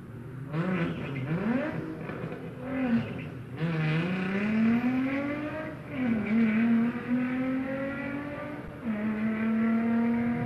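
A drag racing car launches and accelerates down the strip at a Wednesday night drag event, its loud engine note rising and falling through several gear changes, close and dominant, with no voices.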